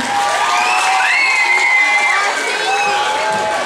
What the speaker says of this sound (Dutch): En een groot applaus voor het T-team!